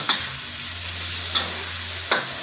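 Pad kra pao stir-fries in a pan with a constant hiss of frying and three sharp scrapes of a spatula spaced through the stretch, close and loud.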